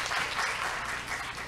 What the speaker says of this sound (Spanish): Un aplauso de nuevo para nuestras invitadas.